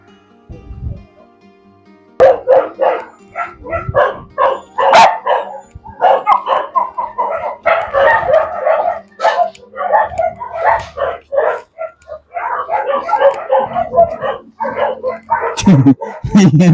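Several dogs bark loudly and repeatedly near an outdoor scouting walk, coming in rapid overlapping bursts with yips and whimpers, while people talk over and between the barking.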